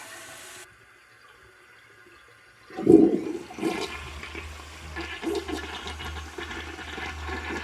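Yellow 1977 Briggs Abingdon toilet on a test stand flushes with a sudden loud whoosh of draining water, followed by a steady tank refill hiss and trickle.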